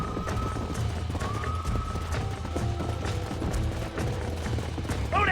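Horses' hooves clip-clop steadily in a Red Dead Redemption horse-roping scene, a fairly loud rhythmic trot over a busy game soundscape with a brief whinny-like tone, no one talking.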